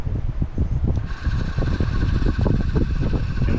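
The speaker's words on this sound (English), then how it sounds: "I'm just going to pump the lure and you'll see this little lure pump operate." A small electric lure pump on an autotrap in Coromandel bush whirs with a rapid pulsing mechanical buzz, rising into a steadier higher whine after about a second and running on continuously up close with no talking.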